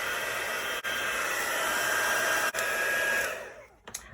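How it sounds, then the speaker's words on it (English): A craft heat tool for embossing powder blows hot air in a steady, loud whoosh, briefly dipping twice before fading out near the end with a faint tick. "So here goes the heat tool."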